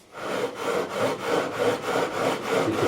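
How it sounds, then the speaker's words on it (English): Fine 400 grit sandpaper rubs back and forth along the frets of a PRS SE Bernie Marsden guitar, a close, steady rhythmic scratching with about eight even strokes. "So we're going to go over to the 400 grit side, the smooth side. Really smooth sandpaper this."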